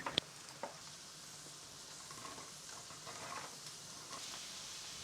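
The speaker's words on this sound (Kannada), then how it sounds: "ಇದಕ್ಕೆ ಜಜ್ಜಿರೋ ಶುಂಠಿ ಹಾಕಿ ಸ್ವಲ್ಪ ಫ್ರೈ ಮಾಡ್ಕೋತೀನಿ" Crushed ginger fries in ghee with a soft, steady sizzle, faint and close, opening with a couple of sharp clinks as it goes into the pan.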